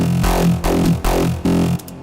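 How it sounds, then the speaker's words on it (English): Heavy dubstep vocal-style synth bass with boosted low and high mids, loud gritty notes cut into short rhythmic chops with vowel-like sweeps, alone without voices. "So it's a really heavy dubstep sound"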